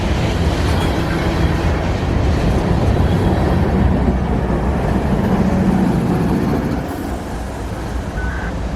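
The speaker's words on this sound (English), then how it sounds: "Wyvern here, we'd be able to see the full train go by for the first time today." A freight unit train rolls past with a Canadian Pacific GEVO as the rear DPU, giving a loud, continuous rumble and clatter up close that eases slightly toward the end.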